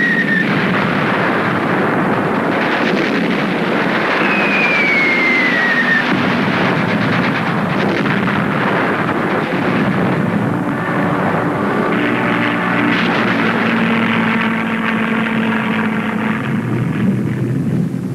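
German bombs explode over Stalingrad during a World War II air raid: a dense, continuous roar of blasts and aircraft drone with falling whistles, heard in old, harsh archival sound without any voices.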